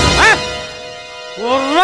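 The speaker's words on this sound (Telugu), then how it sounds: "కుక్క" A dog barks twice, a loud close bark, a short pause, then a second drawn-out bark that rises and falls, set in a Telugu stage drama.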